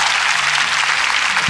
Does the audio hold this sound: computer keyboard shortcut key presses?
no